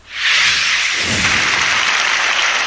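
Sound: applause in Grand Ballroom, Grand Royal Hotel, Stockholm

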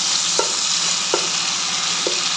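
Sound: paneer frying in a pan

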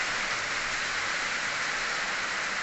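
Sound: rain falling

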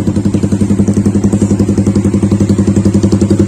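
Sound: Honda CB150R motorcycle engine after starting

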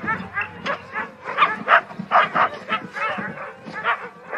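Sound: sled dogs barking

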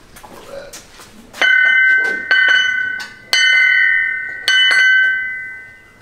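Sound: doorbell ringing

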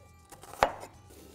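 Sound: knife chopping onion into fine julienne strips

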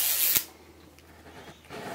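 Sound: zipper being opened on LOL doll packaging

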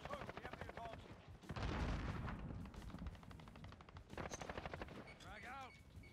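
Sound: gunfire in a video game shooter

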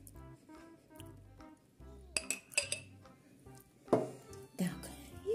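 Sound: stirring mayonnaise salad in a bowl

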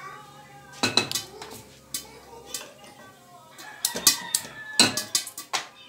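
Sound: placing a cooking pot (cazuela) on the stove

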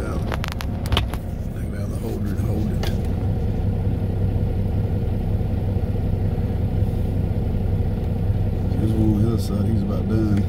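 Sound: truck engine running during sugar beet harvest

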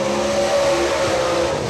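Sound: race car on a qualifying lap at a speedway

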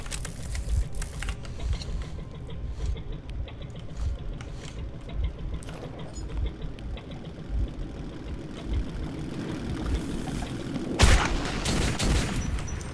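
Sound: gunfire in Metro 2033 video game

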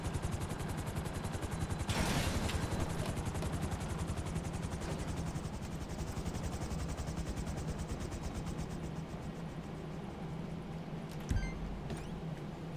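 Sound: Thruster jetpack flying in GTA Online video game

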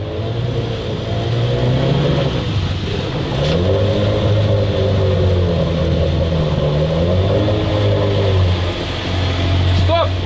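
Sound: boat motor running on a river raft

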